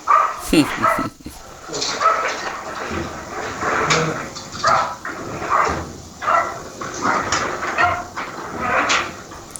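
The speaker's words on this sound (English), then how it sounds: "the dog was going crazy" A dog barks excitedly in repeated bursts with yips and whimpers mixed in. The barking is fairly near and comes through an amateur radio live stream.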